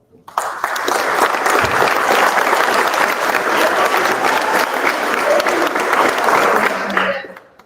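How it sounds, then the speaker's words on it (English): A crowd at a high school football signing day applauds loudly and steadily for several seconds, then the clapping fades out. "you give them a good round of applause when we call their name out"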